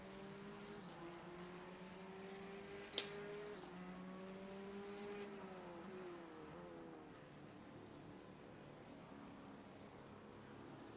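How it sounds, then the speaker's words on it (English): Race car engines whine through shifting gears in a racing video game set at the Daytona 24-hour race, a continuous droning rev with pitch sweeps and one sharp click, no talk. "Car coming out of the pits to the left, you're going to beat him out."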